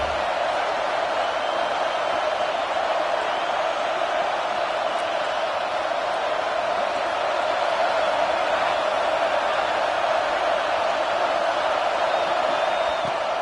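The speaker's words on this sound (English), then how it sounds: "This crowd bringing the energy and noise early." A large American football stadium crowd roars steadily, a dense sustained wash of cheering and noise with no breaks.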